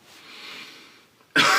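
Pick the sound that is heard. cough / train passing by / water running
cough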